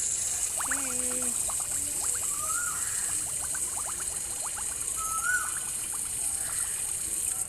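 Bath water runs in a Toca Boca game as a steady, bright hiss under scattered short chirpy game tones and bubbly blips, continuous throughout.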